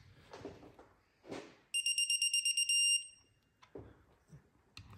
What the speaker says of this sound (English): I do it until the first long beep.